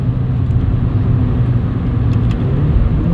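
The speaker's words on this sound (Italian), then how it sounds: "Mi butto dentro due marce per rallentare e il cambio reagisce, e bene anche" A Renault Clio IV RS Trophy with a 220 hp engine rumbles heavily while downshifting two gears to slow down. The deep, continuous engine and road noise is loud and close, heard from inside the car without talking.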